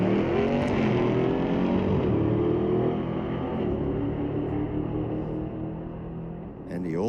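A '23 Corvette with a 438 Windsor engine roars down the drag strip at Mission Raceway, a loud sustained engine drone that fades slightly toward the end.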